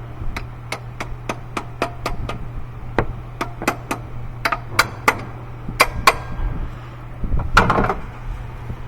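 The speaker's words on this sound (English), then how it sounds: "You can tap a little lighter on the alternator, it's not going to hurt." A hammer tapping lightly on an alternator during replacement on a 2007 GMC Yukon 5.3-litre, about twenty sharp metallic taps in a fairly even rhythm, with a busier clatter near the end over a steady low hum.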